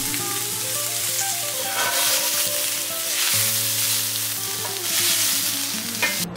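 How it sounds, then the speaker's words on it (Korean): Garlic and onion frying in olive oil in a frying pan for a beet soup, a loud, steady close-up sizzle with stirring scrapes throughout and no talking. "프라이팬에 올려놓고 볶아줍니다."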